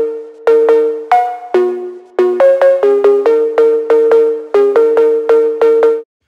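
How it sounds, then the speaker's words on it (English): A synthesized phonk cowbell tapping out a rhythmic pattern of bright, metallic tones, gritty with distortion and trailing into reverb, loud and alone. "if you add like some distortion and some reverb on it to it, sounds like this"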